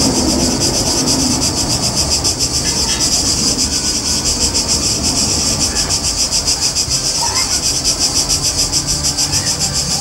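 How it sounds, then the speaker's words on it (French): Crickets chirp steadily and loudly through the night inside a hotel room on the Greek island of Corfu, a dense, continuous pulsing trill with no voices. "on partage notre chambre avec une famille de grillons super vénères."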